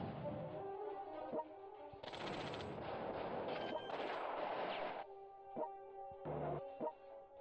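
Ion cannon blasts strike a KV-5 tank in the strategy game World Conqueror 3, loud booming impacts with bursts of crackling noise and sharp explosive hits, surrounded by game effects.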